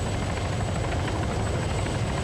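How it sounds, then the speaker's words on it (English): A helicopter in the Arma 3 video game roars loud and close, a constant dense rotor and engine drone filling the whole stretch without a break. "Helicopter's right here!"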